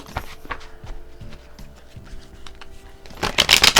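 Tarot cards are shuffled with soft riffling taps, then a louder burst of rapid riffling at the end, close to the microphone.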